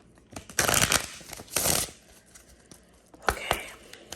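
Papery riffling bursts of tarot cards being shuffled, a few quick rustling rounds with pauses between, close and moderately loud.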